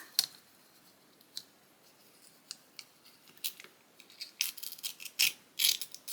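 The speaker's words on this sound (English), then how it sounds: "I'm going to use my ruler and tear that." Paper is torn along the edge of a ruler in a series of short, quiet ripping bursts that grow louder and more frequent toward the end.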